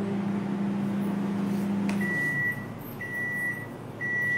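A kitchen microwave oven runs with a steady low hum that stops, followed by three evenly spaced high electronic beeps, close and clear, with no talking.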